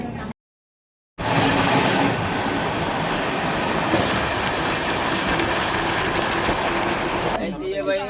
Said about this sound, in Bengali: আমাদের এই ট্রেন দাঁড়িয়ে আছে এখানে পিছনে